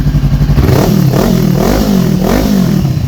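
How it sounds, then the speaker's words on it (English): A 2018 Honda CBR500R motorcycle fitted with a Leo Vince exhaust revs up and down close by, its loud, throaty engine note rising and falling in tonal, almost singing sweeps over a steady idle rumble. "There's a tonal quality to that actually sort of makes this bike sound like it's singing a little bit."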